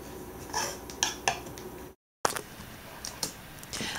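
A knife slices across celery on a cutting board, giving a handful of crisp, separate taps at an uneven pace, close and fairly clear, with a short dead-silent break partway through.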